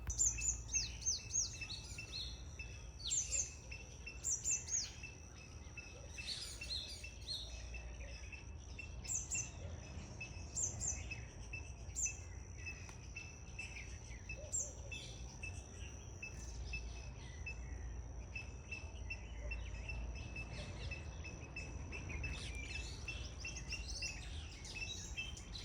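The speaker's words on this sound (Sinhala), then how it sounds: "සමහර වෙලාවට ගෙදර මිදුලකට වැඩිය වත්තේ කුරුල්ලෝ ගොඩාක් සද්ද ඇහෙනවා." Many small birds chirp and tweet in a home garden, drawn by fruit. Scattered high calls repeat near and far over a faint steady insect trill, quiet overall.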